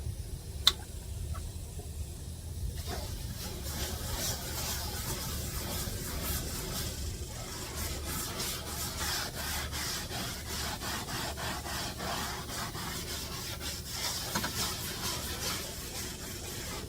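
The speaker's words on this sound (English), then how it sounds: "So now I'm going to try this soft scrub." Steady scrubbing on a vinyl seat of a 2008 Club Car Carryall golf cart using bleach-based Soft Scrub cleanser, a continuous close rasping rub with quick repeated strokes, no talking.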